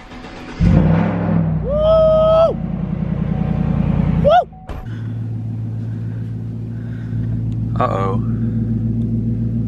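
A lifted 2020 Chevrolet Silverado truck on 24-inch wheels and 37-inch tires cranks over, its engine catching into a deep, close rumble that settles into a steady idle and crawl. Someone speaks briefly over it.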